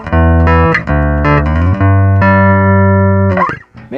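A bass guitar plays a short phrase of ringing notes through the Modern amp model of a Roland VG-99. The tone is close, loud and sustained, and there is no talk.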